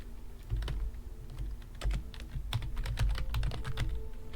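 Keys clatter on a computer keyboard as a root password is typed during an Alma Linux 9.5 setup, a close, irregular run of sharp clicks with bursts and short pauses, no talking.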